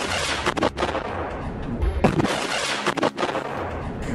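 Mortar shells and artillery fire during an attack near the Al Nawras resort in Gaza: loud, heavy booming blasts and sharp reports in quick succession, with several strong impacts standing out over a rumbling, chaotic background.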